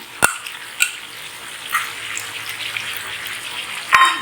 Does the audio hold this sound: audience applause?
no